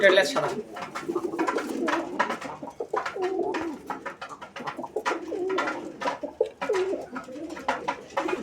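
Pigeons at a crowded pigeon fair selling Raj-golla and Madrazi-golla birds coo over and over in low, rolling calls close by, with voices murmuring in the background.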